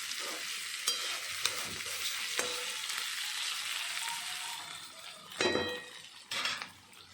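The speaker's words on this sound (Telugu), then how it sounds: "చూడండి, ఇప్పుడు దొండకాయలు అనేవి ఫ్రై అవుతున్నాయి." Ivy gourd (dondakaya) pieces fry in an open pan over medium flame, a steady close sizzle with scraping stirs and a few sharp clinks of a utensil against the pan, louder bursts near the end.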